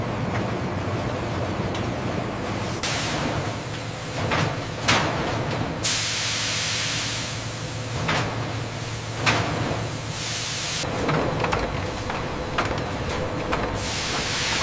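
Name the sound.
industrial steam blancher processing broccoli florets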